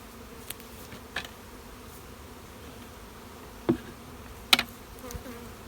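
Honey bees around hives being split into nucs: a faint, steady insect hum carries throughout, with a few brief louder buzzes as individual bees fly close past.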